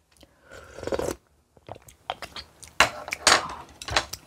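Someone eats spicy King Ttukkeong cup ramen broth, with close, wet slurps and chewing in irregular bursts and brief pauses, plus a few faint clinks of utensils.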